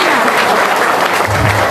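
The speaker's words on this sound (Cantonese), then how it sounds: "俾大家俾啲掌聲" Applause from an audience at an alumni gathering, a sustained, dense burst of clapping that fills the room with no pause.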